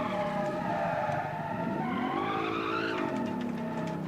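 Tires on a fan-made rear-wheel-drive car squeal steadily as it drifts in the BeamNG driving game, a loud continuous screech whose pitch rises and then drops, with no talk.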